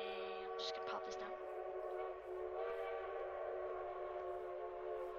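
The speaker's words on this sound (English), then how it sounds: "It's a diesel train blowing a steam train horn." A diesel train in the Minecraft Traincraft game sounds a steam train horn, a sustained multi-tone whistle holding for several seconds, clear and steady, with a few faint clicks at the start.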